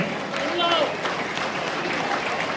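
An assembly hall crowd at an NWA meeting at LKS Mahal in Trichy gives applause in support, a continuous rough patter of clapping mixed with murmuring and voices throughout.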